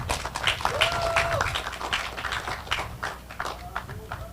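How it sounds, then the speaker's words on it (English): Scattered applause breaks out for a senator at a joint press conference, irregular claps mixed with people talking nearby. "I clap for Senator White."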